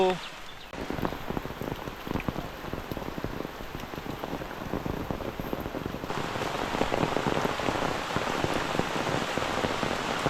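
Heavy rain pours down hard and steady, a dense close drumming patter that grows slightly louder toward the end.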